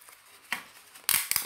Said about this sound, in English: I am going to painstakingly try to rip apart this without ruining all of it.